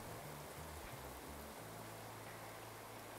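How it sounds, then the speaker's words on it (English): Heavy rain pours down during a SwellPro Fisherman Max drone flight, giving a constant dense hiss throughout. A low droning hum sits underneath, and no one speaks. "remember, it's pouring rain right now, guys. You can probably hear it, hopefully."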